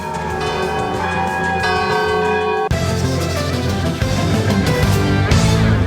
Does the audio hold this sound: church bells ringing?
yes